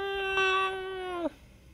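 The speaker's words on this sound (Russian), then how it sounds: "Ну скажи, мяу." A cat in the wild Altai region gives one clear, drawn-out meow lasting just over a second, close and steady before ending with a short falling tail.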